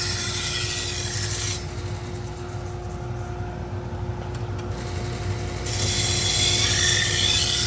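A Japanese-style knife is ground on an abrasive belt, a harsh rasping hiss over a steady motor hum, easing briefly in the middle then returning stronger.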